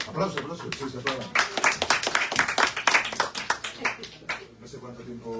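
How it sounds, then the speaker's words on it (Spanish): Audience applause swells from scattered claps into a thick burst of many hands, then thins back to a few claps near the end, with some voices mixed in. "Aplausos, aplausos, sí, se aplaudan"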